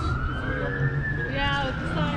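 An ambulance siren wails through a gliding pitch sweep as it passes a car show, steady and fairly loud over crowd noise.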